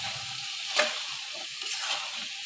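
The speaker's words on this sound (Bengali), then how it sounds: "এখন মূলাটাকেও ভালো করে কষিয়ে নিব।" Chopped radish is stir-fried in a hot pan, producing an even, close sizzle with a couple of brief scraping swishes from the spatula as it is tossed. There is no talking.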